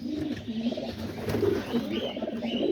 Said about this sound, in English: And then 7 or 8 pigeons sitting on eggs